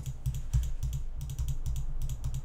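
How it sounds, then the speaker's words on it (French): Rapid clattering keystrokes on a computer keyboard come in quick bursts with brief pauses, close and crisp, picked up by a small Razer Seiren Mini desktop microphone. "Je tape un petit peu sur le clavier en même temps que je parle"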